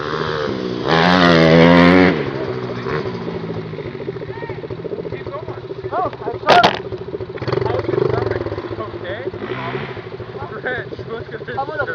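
Minibike engine revving loudly for about a second, then idling and puttering beneath excited nearby talk, with a short sharp clatter partway through.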